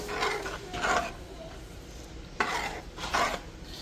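Dhokla batter with peanut oil is stirred in a bowl, producing close, swishing, scraping strokes in two pairs of bursts over a low background.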